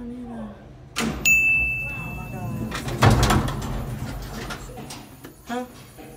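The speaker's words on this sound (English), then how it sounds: "Clear the doors. Doors are now closing." The tram capsule doors inside the St. Louis Gateway Arch slide shut with a loud clunk, and a steady chime tone follows. People talk through it, with a few more knocks and rattles afterward.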